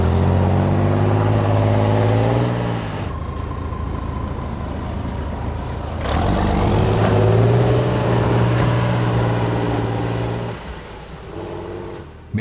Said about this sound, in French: Nous avons ici un véhicule de transport de troupes blindées chenillées suédoises, le PBV 302A.